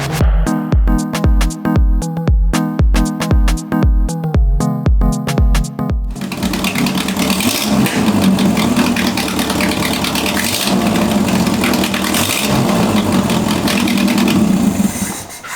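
A widebody Toyota Corolla engine cranks in loud rhythmic pulses for about six seconds, then catches and settles into a steady, close, rough idle that runs on alone.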